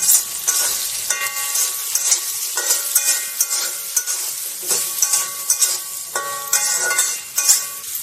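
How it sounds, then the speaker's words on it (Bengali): Turmeric, chili, cumin and coriander powders fry and get stirred in a pan, a steady close sizzle broken by repeated scraping and clinking strokes of a utensil against the metal, with no talking. "এবার আমি মশলাটাকে কষে নেব"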